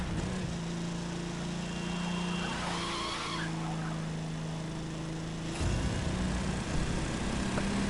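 A car in the video game The Crew 2 drives with a steady engine hum, then tires skid and squeal through the middle before the engine note shifts and carries on near and continuous.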